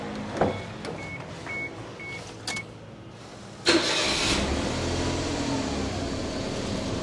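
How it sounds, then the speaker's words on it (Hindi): An automatic Suzuki Alto VXR fires up with a short crank and catch, then settles into a steady idle close by, after a few quiet chime-like beeps from the dashboard beforehand. "गाड़ी में आपको स्टार्ट करके भी दिखा देता हूँ।"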